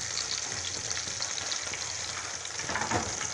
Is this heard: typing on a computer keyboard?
no